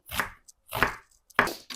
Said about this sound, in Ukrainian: нарізаємо кубіком цибульку